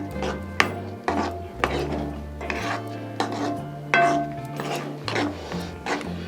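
Gram flour being stirred into spinach curry in a pan, with a steady series of rhythmic scraping and rasping strokes of a spoon against the metal, close and fairly loud, with a low hum underneath and no talking.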